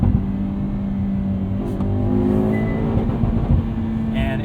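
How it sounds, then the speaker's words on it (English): A 2021 Hyundai Veloster N with DCT in manual mode, engine revving steadily near its 6,750 RPM redline and bouncing off the rev limiter, a loud sustained drone with a faint rise toward the end, no one talking. "in manual mode, you can bounce off that rev limiter all day long"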